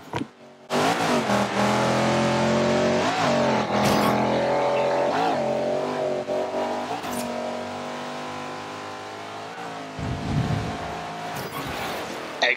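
Racing cars in the Forza Horizon 2 video game roar continuously at close range, engines droning and shifting pitch across the run with a short dip near the start and a rougher burst near the end.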